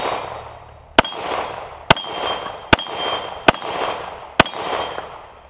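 Five sharp, loud pistol shots from a Kimber R7 Mako crack at steady intervals, each followed by a ringing clang from the steel plate target at an outdoor range.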